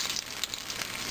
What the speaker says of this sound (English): then you drop it in the hot oil, and instantly they start frying.